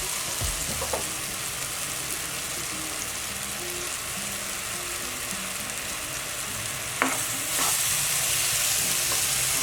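A banana-stuffed bread roll cooks in a pan over a medium flame, a soft continuous sizzle with a few light clicks and scrapes, no voices.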